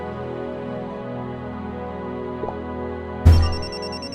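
Telephone ringing in the Nancy Drew Dossier: Resorting to Danger game, a steady electronic ringtone layered over sustained game tones, cut short near the end by a sudden louder burst.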